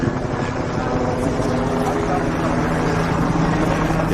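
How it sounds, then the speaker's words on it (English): Helicopter hovering overhead at a police and fire response to a high-school shooting in Sacramento, a loud continuous rotor drone with steady low tones that fills the whole stretch. "The helicopter is overhead."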